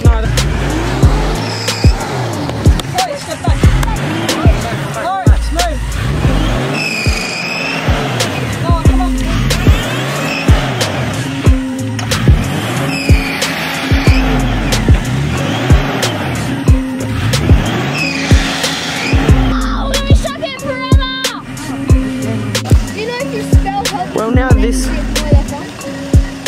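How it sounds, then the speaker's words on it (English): Cars bogged in mud on a muddy bush track, engines revving hard and tyres spinning and squealing in repeated surges throughout, loud and close, with people shouting and talking over the noise. "This car is bogged and this one is bogged."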